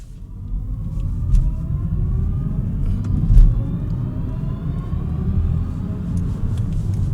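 A 2025 BMW i4 eDrive35 rear-wheel-drive electric car accelerates, its cabin filled with a loud low road rumble and a faint rising electric motor whine that climbs steadily in pitch, without speech.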